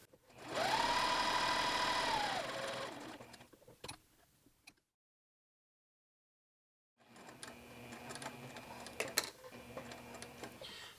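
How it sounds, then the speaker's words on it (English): A sewing machine stitching a muslin bodice seam whirs steadily for a couple of seconds, slows to a halt for a back tack, then falls silent before soft clicks and fabric handling resume close by. "Sew for a couple stitches, and we'll do a back tack."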